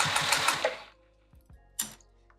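A sewing machine stitches closed the opening of a fabric hippie headband in a short rapid burst, then makes a few isolated clicks and one more brief whir, close up and fairly quiet.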